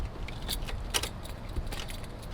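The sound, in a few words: car ignition attempt, keys jangling, car won't start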